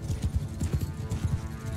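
Cavalry horses gallop in the Mount and Blade Bannerlord video game, a quick, rhythmic drumming of hoofbeats at a moderate distance, repeating steadily without pause.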